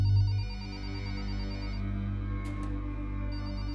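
A telephone rings in the horror video game Lust for Darkness, a steady electronic ring over a low humming background, fairly faint with no voices.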